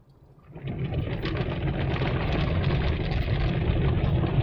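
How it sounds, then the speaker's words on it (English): The top brush of a car wash runs steadily, making a dense, loud whirring and sloshing wash. It swells up from a quieter start and stays constant close by. "Here comes our top brush."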